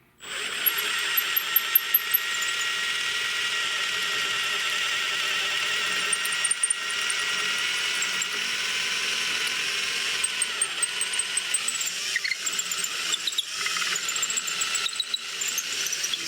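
A power drill whines in a loud, steady squeal as its bit enlarges a hole in a drop grip rifle stock for a Tikka T3. It runs almost continuously, close up, with brief pitch dips and scrapes as the bit is slanted.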